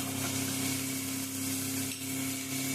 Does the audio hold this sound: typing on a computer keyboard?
no